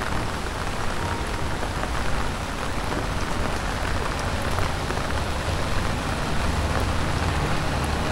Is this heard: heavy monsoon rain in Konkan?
yes